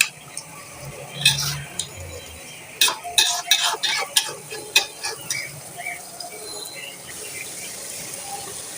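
Ghee going into chicken biryani frying in a pot, with a low sizzle beneath a run of sharp scraping, clattering stirs of a spoon against the pan, then quieter frying.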